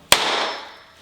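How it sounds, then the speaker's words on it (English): A single sharp hammer strike on a tile set in mastic in a Vevor shower pan, a loud crack with a brief ringing decay, alone. "just one hammer hit and this tile broke bond"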